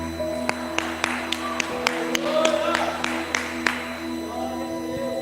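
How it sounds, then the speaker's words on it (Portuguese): Church congregation applauding during a worship service, a scattered, moderate clapping under music and background voices, with a few sharper isolated claps standing out. "Pode aplaudir ao Senhor"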